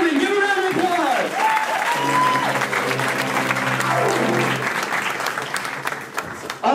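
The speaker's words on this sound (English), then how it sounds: "Tim Coleman, give a round of applause!" Applause at an improv show, broad sustained clapping with loud cheering and shouted voices riding over it, then thinning near the end.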